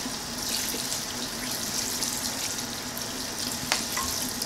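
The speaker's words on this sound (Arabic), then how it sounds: "كنديرو ليها الماء سخون بحال هكا" Hot water pours steadily into a bowl for a Moroccan vermicelli dish, making a continuous close rushing splash without a break.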